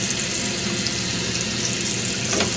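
Water gushes steadily from a vintage tap with valve handles at a bed and breakfast, a loud, even, close hiss with no pauses.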